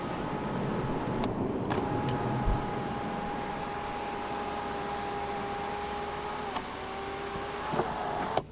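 An electric sunroof on a 2019 BMW 730d slides open with a steady, even motor whine lasting several seconds inside the quiet cabin, bracketed by faint clicks at the start and finish.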